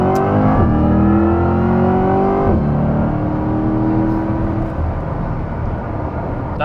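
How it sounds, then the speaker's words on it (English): A sports car accelerates hard at full throttle, its engine note climbing loud and close through rising gear sweeps, with a brief shift break and a steady roar as the tires spin slightly at launch. "And get on it, floor it."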